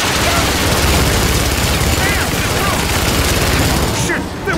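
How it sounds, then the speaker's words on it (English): Dense, continuous gunfire from a firefight in the video game Rise of the Tomb Raider, a loud sustained volley of overlapping shots and booms that fades briefly near the end. "They weren't supposed to shoot at us!"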